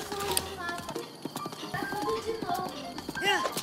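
Horse hooves clip-clopping during riding in a Zelda video game, a quick uneven patter of hoofbeats with a whinny near the end, set among game sounds and music with people talking over it.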